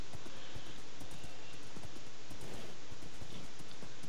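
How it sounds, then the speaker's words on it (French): Horse hooves clip-clop steadily in Minecraft, a dense run of quick, even taps over a constant hissing background, with no voices. "nous on se déplace avec des chevaux"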